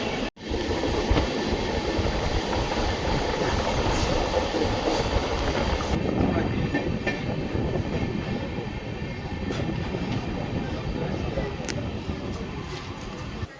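A Talaguppa–Bengaluru Intercity Superfast Express with new LHB coaches runs steadily, giving a continuous loud rumble and rail noise throughout, with faint rhythmic wheel clatter and a brief dropout near the start.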